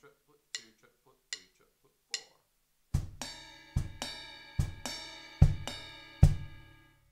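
A drum kit plays a triplet groove. Several light, sparse clicks come first, then a steady run of bright, ringing ride cymbal bell strikes falls together with punchy bass drum hits, each note sounding close and clear.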